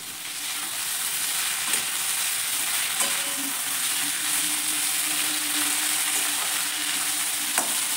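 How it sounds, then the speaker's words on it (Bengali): Onions and chopped tomato fry in a pan for a mutton kosha, giving a continuous close sizzle with occasional stirring clicks and scrapes. "আর পেঁয়াজগুলোকে আমি এখানে হালকা ব্রাউন করে ভাজবো"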